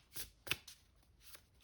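Light Seer's Tarot cards being shuffled by hand, with several quick papery riffling bursts, close and quiet, in a short run with brief gaps between them.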